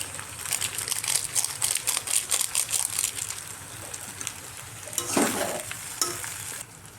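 Pasta with Maggi masala sizzles in a hot pan while a spoon stirs it in quick rhythmic scraping strokes, then a louder crushing, hissing burst near the end before the sound thins out.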